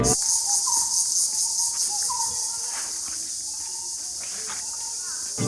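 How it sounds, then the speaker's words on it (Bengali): Crickets chirp steadily in a quiet outdoor setting by a temple, a thin high-pitched trill running throughout, with a few faint soft knocks and rustles nearby. "কি সুন্দর ঝিঝি পোকার ডাক"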